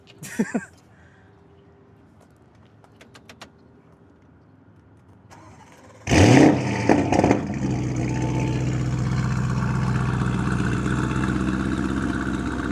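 A Lamborghini Urus with an Akrapovic exhaust fires up after a few quiet clicks, starting with a sudden loud roar and a short rev before settling into a deep, steady idle nearby.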